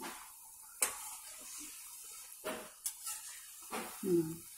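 Shankar pali mixture stirred in a pan over a medium flame, heard as scattered sharp scrapes and clinks of a utensil against metal, close and fairly quiet with gaps between strokes.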